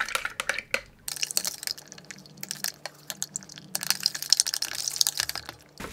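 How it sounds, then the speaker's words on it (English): A tin of paint being stirred with a chopstick, giving wet, sloshing clicks and drips in an irregular rhythm, close and fairly clear, with no talking. "This one says to stir it, so I've got my chopstick."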